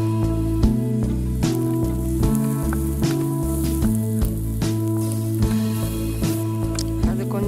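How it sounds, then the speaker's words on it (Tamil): Onions sautéing in a pan with chili powder give a steady sizzle and crackle with soft stirring knocks, close and fairly quiet, while background music plays throughout. "வெங்காயம் வந்து நம்ம நல்லா வதக்கணும்."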